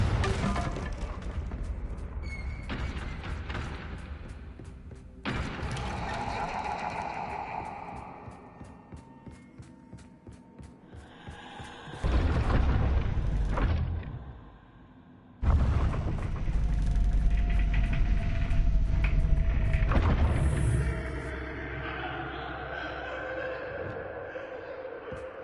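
A Confringo blasting spell in Hogwarts Legacy sets off several loud, broad explosive bursts. Mechanical game effects fill the quieter stretches between the blasts.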